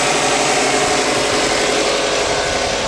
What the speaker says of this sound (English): you can kind of hear the motor. Like it's running a little smoother.